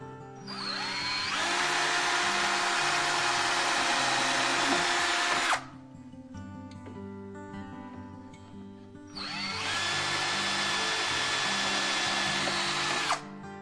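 A power drill whines loudly in two long bursts of several seconds each, drilling into wood while installing kitchen cabinets, with a quieter pause between them.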